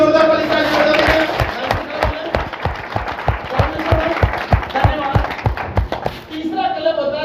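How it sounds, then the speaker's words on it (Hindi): Seminar audience giving loud applause, dense clapping building and holding for several seconds with some thumps and crowd noise, then fading out near the end. "एक बार इनके लिए भी जोरदार वाली ताली बजा देंगे।"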